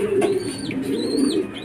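Homing pigeons cooing on a rooftop after arriving from a 126 km race from Unisan, Quezon, a steady low murmur of coos with a few higher chirps, close and fairly loud.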